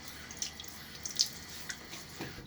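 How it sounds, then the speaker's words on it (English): Water from a sink with hard, cool water drips and splashes faintly as a face is wetted during a shave, giving scattered small splashes and trickles in a quiet room. "wet my face one more time"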